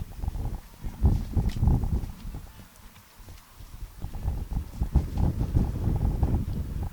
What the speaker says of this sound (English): As the wind picking up here a little bit